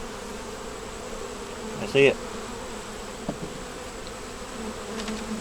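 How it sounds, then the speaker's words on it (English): Bees buzz faintly and steadily around a hive frame during a beekeeper's inspection, a low continuous drone with a brief louder swell partway through and a short voice near the end. "Got some bees on it."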